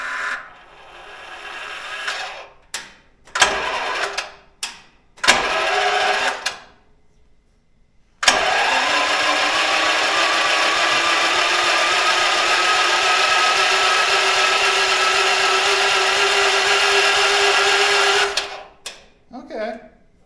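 An excavator engine left sitting in the rain cranks in several short, broken bursts, then catches and runs at a loud, steady roar for about ten seconds before cutting off.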